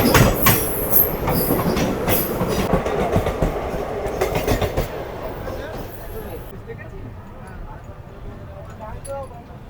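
The Howrah to Digha train 15722 runs through Mecheda, with loud rolling wheel rumble and rhythmic clacking over rail joints that fades toward the end, under a voice talking throughout.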